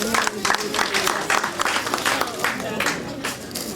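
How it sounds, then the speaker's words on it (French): An audience claps for a presenter at an event in Niger, a moderate run of uneven, individually distinct claps with a murmur of voices and crowd noise running underneath. "veuillez applaudir M. Rabé, s'il vous plaît"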